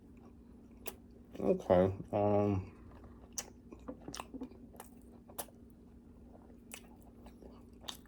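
Crunchy bites and chewing of a Safeway roast beef sandwich, close to the mic, in a couple of short bursts early on, then quieter mouth sounds with a brief spoken word.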